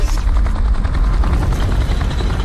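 Helicopter of the clock characters in a Skibidi Toilet animation, a loud continuous rotor roar with rapid thudding pulses that hold steady for a couple of seconds.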